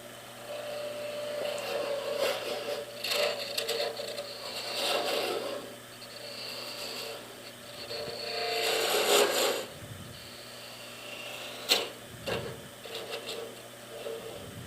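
A wooden Christmas ornament is parted off on a lathe, with bursts of rasping, scraping cutting at close range that come and go in several passes, separated by quieter gaps with a low motor hum underneath.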